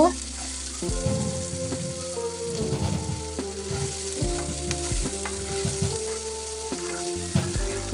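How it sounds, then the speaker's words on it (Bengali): Cumin and mustard seeds tempering in hot oil in a wok, giving a steady close sizzle with scraping stirring strokes throughout. "আমি কড়াইয়ে প্রথম জিরা আর সরিষা ফোড়ন দিয়েছি তো এটা অল্প একটু ভেজে নেব"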